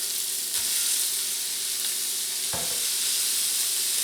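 Beef hitting a hot wide skillet, frying in a steady, loud sizzle with a couple of brief stirring scrapes, no talk over it.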